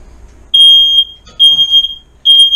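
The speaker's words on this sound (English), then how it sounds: "WD-40 on the smoke detector. Okay, hush it up now." A smoke alarm emits three loud, piercing electronic beeps, each lasting about half a second, with short quiet gaps and faint background noise between them, in a garage workshop with engine cases warming in an oven.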